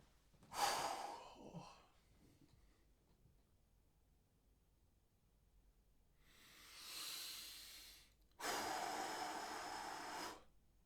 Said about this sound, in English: this is just me breathing because I just feel fucking tired, man